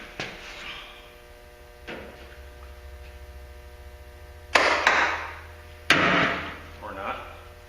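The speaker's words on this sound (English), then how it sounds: "Time to do a little hammer time here." Hammer blows on the sheet-metal bed bodywork of a Ford Ranger pickup: a few sharp, loud metallic strikes spaced irregularly, some in quick pairs, over a low steady electrical hum.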